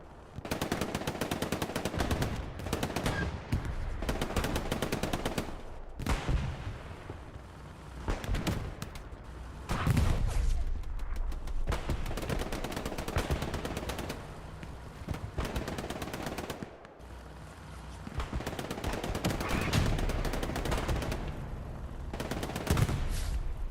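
Video-game warfare with tank fire from a German P4 medium tank mixes with dense, near-continuous bursts of automatic gunfire and sharp cracks, loud and sustained with only brief lulls.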